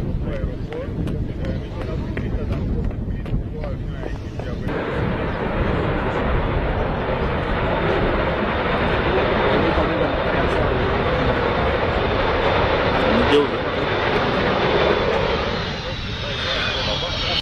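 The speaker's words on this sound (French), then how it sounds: "toutes les caméras sont braquées vers le ciel de l'aéroport international de la Luano, où l'on a aperçu cet avion" A black-and-white airplane landing at Lubumbashi's Luano international airport makes a loud, continuous jet roar that holds steady throughout, with voices briefly at the start.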